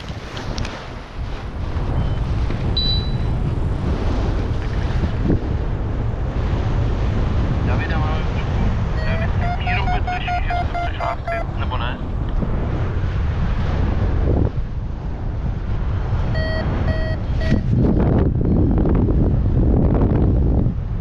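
Strong wind blowing on Monte Dolada, a mountain, roaring continuously into the microphone for about twenty seconds with gusty buffeting and faint flapping fabric.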